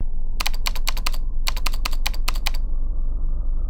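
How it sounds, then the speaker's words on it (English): Typewriter keys clatter on a horror video game's title screen, two quick bursts of sharp, evenly spaced strikes with a short pause between them, over a steady low background hum. "Yet again, a typewriter starting this off. Except for this is just the title screen."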